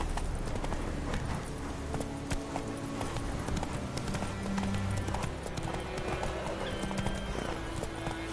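Roach the horse gallops in The Witcher 3, with a fast, close clatter of hooves in a continuous rhythm, a brief whinny and dense ambient game sound.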